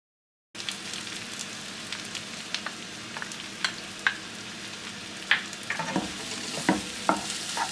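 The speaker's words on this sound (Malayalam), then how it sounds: "അതിനാദ്യമായിട്ട് ഒരു നോൺ സ്റ്റിക്ക് പാനിൽ എണ്ണ ചൂടാക്കിയിട്ട് അതിലേക്ക് സവാള, ഇഞ്ചി, പച്ചമുളക്, വേപ്പിലയും മൂപ്പിക്കാം" Onion, ginger, green chilli and curry leaves sauté in hot oil in a non-stick pan, a steady sizzle broken by repeated scraping stirs and sharp spatula clicks, close and alone with no voices.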